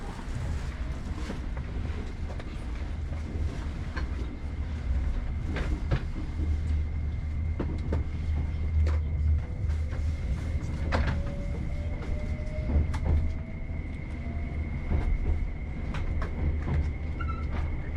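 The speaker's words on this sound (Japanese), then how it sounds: "JR 四国8000系アンパンマン列車さようなら。" A JR Shikoku 8000 series Anpanman limited express train runs along the line, a steady rumbling roll with rhythmic wheel clicks and a faint tonal whine throughout, heard from nearby.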